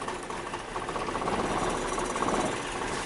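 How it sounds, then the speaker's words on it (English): A misfiring Nissan Maxima engine idles with a continuous rough, uneven rumble and rapid ticking pulses, steady and close, with no talk over it. "they all make the engine stumble a lot more"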